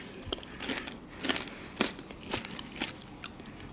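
Close, repeated crisp bites and chewing on air-fried crinkle-cut french fries gone hard at the edges, made in a Wolfgang Puck air fryer oven, with about six distinct crunches spaced at a steady rhythm.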